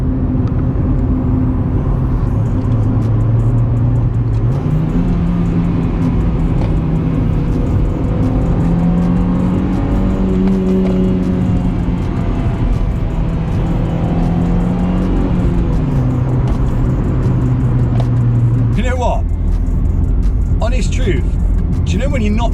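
A Honda Civic EJ6 accelerates hard in a 0-60 run, its engine note climbing and dropping through several gear changes, loud and heard from inside the car, with brief talking near the end.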